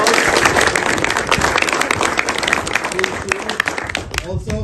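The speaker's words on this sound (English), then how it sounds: "Give them a round of applause." Crowd applause at an Oromo community business gathering, sustained loud clapping from many hands that fades slightly near the end.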